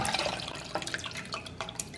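Water is tipped out of a jar, giving a continuous splashing pour with scattered drips and gurgles, close and moderately loud.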